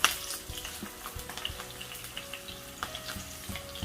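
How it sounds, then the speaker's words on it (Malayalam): Mustard seeds, curry leaves, and dried red and green chillies fry in oil for Kerala-style rava upma, a soft sizzle dotted with quick popping crackles at an irregular rhythm, close up and with no voices. "ഈ കടുകൊക്കെ പൊട്ടി വരുമ്പോൾ നമുക്ക് കുറച്ച് കറിവേപ്പില ഇട്ട് കൊടുക്കാം."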